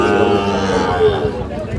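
Sahiwal bull calves and other cattle at a busy livestock market, with a low, drawn-out moo up close under loud crowd chatter.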